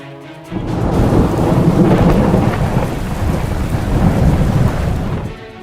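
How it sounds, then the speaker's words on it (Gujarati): Heavy monsoon rain pours steadily in Gujarat with deep rolling thunder rumbling through, loud and continuous after a brief quieter start, fading near the end. "ઉત્તર ગુજરાતમાં સવારથી મેઘરાજા અનરાધાર વરસી રહ્યા છે."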